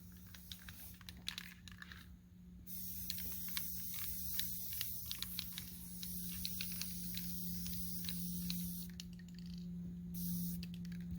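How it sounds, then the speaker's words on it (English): A quiet, steady hissing spray from a spray paint can marking fence posts runs through most of the stretch, broken by brief pauses and faint clicks, with no one talking. "We'll spray paint a few of these posts as well"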